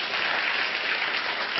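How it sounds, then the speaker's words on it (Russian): Studio audience applauding, a brief even wash of many hands clapping at steady loudness with no pauses. "Спасибо аудитории уже за первые аплодисменты."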